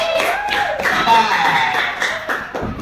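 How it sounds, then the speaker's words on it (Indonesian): A primary school class applauds a student group, several hands clapping briskly in a room while voices talk over the clapping. "beri tepuk tangan untuk kelompok"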